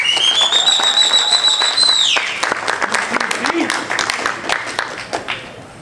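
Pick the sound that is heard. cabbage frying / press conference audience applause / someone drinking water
press conference audience applause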